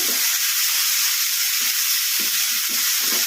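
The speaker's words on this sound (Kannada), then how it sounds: "ಮೆಂತ್ಯ ಸೊಪ್ಪು ಚೆನ್ನಾಗಿ ಎಣ್ಣೆಗೆ ಫ್ರೈ ಆಗಬೇಕು." Fenugreek leaves and tomato chutney fry in oil with a steady, close sizzle that stays at an even level the whole way through, and a few soft stirring scrapes come through underneath.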